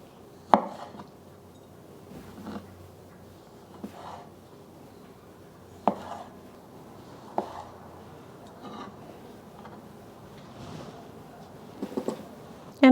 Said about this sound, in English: Also using 3 small tomatoes. I'm just going to cut these into 8s.